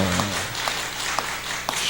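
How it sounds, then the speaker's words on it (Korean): A congregation applauds together, a dense wash of clapping heard from within the room, with a few louder individual claps standing out at irregular moments. "박수 한번 해주세요."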